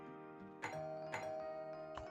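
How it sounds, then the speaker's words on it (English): A doorbell chime rings in the Zenless Zone Zero video game, a soft electronic ding-dong tone repeating about three times in quick succession over a steady, quiet background. "that was my doorbell"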